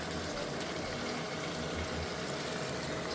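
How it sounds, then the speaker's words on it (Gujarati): Water poured into cooking masala in a pan, giving a steady, continuous rushing and gurgling liquid sound throughout, fairly close and with no speech. "એમાં પાણી નાખી દઈએ"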